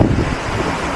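Strong wind buffets the microphone at sea during Cyclone Beryl, a brief, loud, rumbling gust with broadband roar and no voices.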